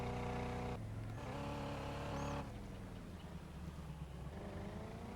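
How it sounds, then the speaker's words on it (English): Engine note of a car driving in the Farming Simulator video game, a steady tonal hum with harmonic layers, loud and continuous, shifting pitch midway and settling into a rougher drone with no voices. "we decided we're going to take the car over to Jeff's."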